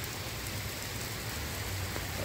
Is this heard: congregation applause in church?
no